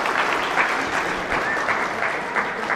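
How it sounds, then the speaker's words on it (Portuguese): An audience applauds steadily at a Bible finance course event, a dense, continuous wash of many hands clapping from start to finish. "Vamos dar uma salva de palmas para os pais?"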